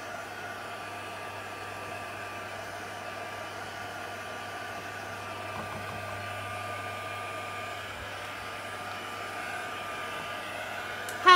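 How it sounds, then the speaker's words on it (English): A heat tool blows steadily over wet paint on an abstract canvas, a constant airy whir with a low hum that holds unchanged throughout and ends with a brief louder bump. "Just quickly hit some of this wet paint with a heat tool."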